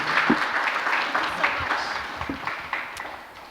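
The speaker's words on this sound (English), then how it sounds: "let's give one more round of applause to all our wonderful guests tonight" Audience applause for guests at an evening panel on Indigenous peoples' health, a moderately loud wash of clapping from a seated crowd that tapers off toward the end, with a few faint voices underneath.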